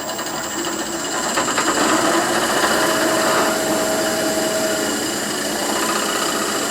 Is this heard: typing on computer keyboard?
no